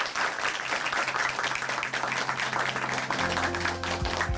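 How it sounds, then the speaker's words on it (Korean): A church congregation applauds after a testimony program, sustained clapping from the seated crowd that stays even and moderately loud, with a low music tone entering near the end. "다시 한번 박수 보내드리겠습니다."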